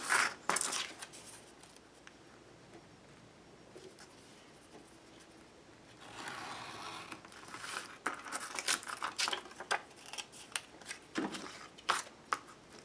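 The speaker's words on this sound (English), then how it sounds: "I'm going to use my X-Acto." An X-Acto knife cuts through vintage photo prints in a quiet, close setting: soft scraping strokes and crisp paper sounds come in irregular bursts, busier in the second half.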